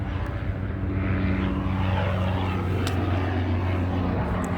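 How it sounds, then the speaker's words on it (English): Steady rotor-engine drone of a helicopter passing overhead, loud and continuous throughout, with faint background sounds. "Helicopter."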